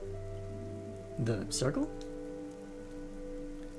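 Steady rain falls in the video game Sunday Scaries: Fall of Porcupine, a soft continuous patter beneath a brief spoken question.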